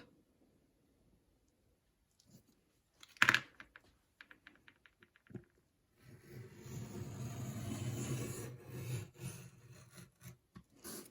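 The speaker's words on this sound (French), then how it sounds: "Ça se découpe impeccable. Ce cutter est super." A craft knife slices paper on a blue cutting mat for a rustic wedding album cover, heard as short scraping strokes followed by a longer rasping cut that runs for several seconds, close and fairly quiet, with no talk.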